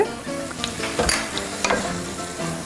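Minced meat frying in a pan with oregano and thyme for a Greek-style spaghetti bolognaise, with soft sizzling and a few scraping stirs and utensil clinks against the pan, fairly quiet and without talk.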